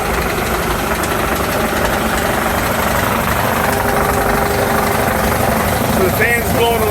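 A shop air compressor runs close by with a loud, constant mechanical drone and throbbing engine rumble, and a voice is heard speaking near the end.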